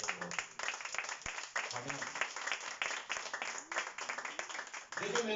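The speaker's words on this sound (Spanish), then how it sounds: "Dale un aplauso a nuestro Señor." A church congregation applauds steadily while a Spanish-speaking preacher keeps speaking over the clapping.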